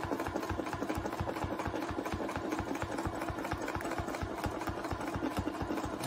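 Sewing machine stitching a free-motion meander quilting pattern, a steady fast mechanical rhythm of needle strokes that runs close and even throughout with no talk.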